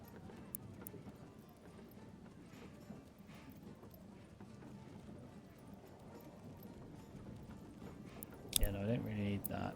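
Horse hooves clip-clop in the medieval village game Manor Lords as a steady, fairly quiet stream of hoofbeats under ambient game noise, with a louder clatter near the end.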